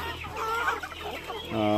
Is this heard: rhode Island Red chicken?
yes